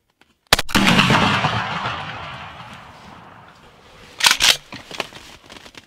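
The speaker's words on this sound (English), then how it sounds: "If you can shoot him, shoot him." Shotgun blast at a wild turkey during a hunt, a single sharp close shot followed by a long decaying rumble, then a second nearby burst of rustling and crackling movement.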